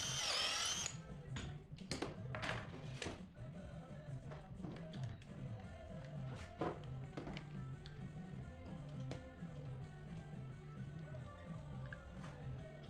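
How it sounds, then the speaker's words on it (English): A power drill bores dowel holes in reclaimed wood boards for a coffee table, a steady whirring motor with rising and falling pitch and a few sharp knocks near the start, moderately close. "after drilling all the dowel holes"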